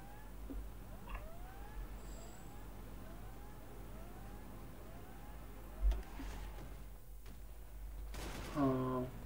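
A chime-like in-game alert sounds near the end in Hearts of Iron IV (Millennium Dawn mod, playing Iran), a short bright burst over continuous low background game ambience and faint tones.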